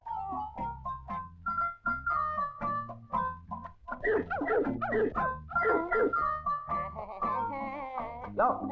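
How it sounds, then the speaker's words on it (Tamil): A dog in a Tamil comedy film scene barks in a rapid series of sharp, close yaps, then breaks into high whimpering whines, loud and continuous over several seconds. "நாய் இங்க இருக்குதுயா"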